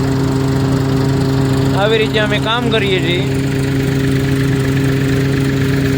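A tractor engine drones steadily at a farm threshing site in a field where two threshers run, a constant loud mechanical hum throughout, with someone speaking briefly over it.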